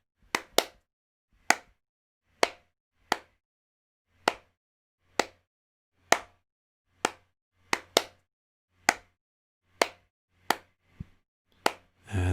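A single clap sample in Ableton Live, sharp dry hits repeated about a dozen times at a steady pace, each one short and isolated with silence between them.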